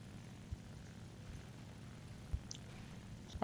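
Propeller engine drone of a Macchi M.C. 202 fighter in War Thunder, a steady low rumble throughout with a few brief thumps and faint higher clicks, no talking.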